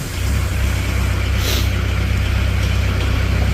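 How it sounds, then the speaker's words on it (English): A Kubota diesel engine on a 2014 Moffett M55 truck-mounted forklift runs with a steady loud low rumble that holds without a break, heard close and with no talking. "let's hear this Kubota come to life"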